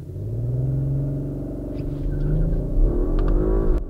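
An Audi RS 4 Avant engine revs hard as launch control holds it near 4000 rpm before the start, a loud, close, steady rumbling drone that swells toward the end.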